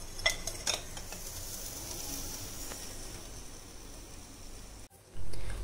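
Ghee dripped onto hot burning charcoal beside chicken pahadi kababs gives a soft, steady hiss with a few sharp crackles near the start, ending with a short louder thump.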